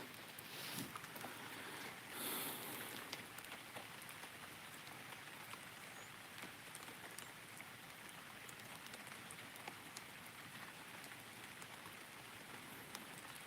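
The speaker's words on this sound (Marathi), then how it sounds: "हा पाऊस चालू आहे थोडा थोडा" Soft, light rain patters steadily on a surface, faint scattered drops with a brief louder rustle near the start, no voices.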